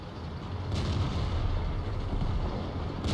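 Tank cannon fire in a tank battle video game, a heavy dull boom layered over a constant low rumble of engines and battle noise that fills the whole stretch without pause.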